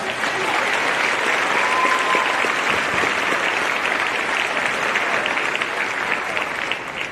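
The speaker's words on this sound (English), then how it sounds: "Please give them all once again a round of applause" A high school graduation crowd applauds its graduates, steady dense clapping sustained throughout at a loud, even level with no break.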